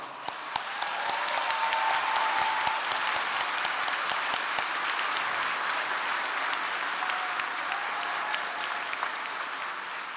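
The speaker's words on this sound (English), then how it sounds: "Please give them a round of applause." Sustained audience applause at a high school graduation ceremony, a steady wash of many hands clapping in a large space, fairly even and moderate in level for about ten seconds with no talk over it.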